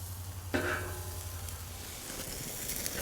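Tomahawk steaks sear over a hot fire on a Slow 'N Sear kettle grill, a steady close sizzle and crackle that jumps louder about half a second in and keeps going without a break.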